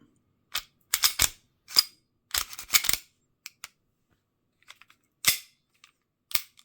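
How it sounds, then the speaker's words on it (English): Several sharp, dry clicks and snaps from handling an FN 509 4.5mm CO2 BB air pistol, spaced irregularly across near-silence, some in quick pairs and clusters, close to the microphone. "So again, full blowback, full lock back after last shot."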